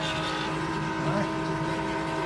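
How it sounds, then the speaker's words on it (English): Electric fuel pump priming diesel drawn from a Bobcat 873 into a fuel tank, a steady mechanical whir with tonal hum close by, joined by faint gurgling of flowing fuel. "Got the pump going, you see some fuel in there, and it's filling up pretty fast"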